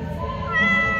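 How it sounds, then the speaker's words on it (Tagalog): A house cat meows in a single drawn-out, fairly close call that swells slightly toward the end, heard alone with no talking. "Pusa din guys"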